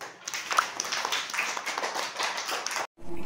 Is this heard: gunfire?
no